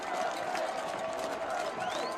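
Football crowd at a New Hampshire Wildcats FCS playoff game against Fordham, a distant sustained roar of cheering and chanting from the stands, faint and steady with no distinct voices standing out.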